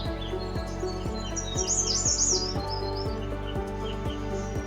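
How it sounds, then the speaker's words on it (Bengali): Several birds chirp and trill at once, a high twittering chorus over a steady, regularly pulsing mechanical background hum. "কত রকম পাখির ডাক এখানে এলে শুনতে পাওয়া যায়"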